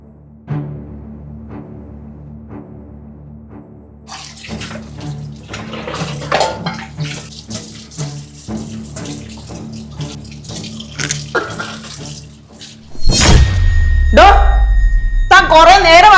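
A tap runs during scrubbing. It starts faint under a person speaking, then gushes loud and close near the end as water pours strongly.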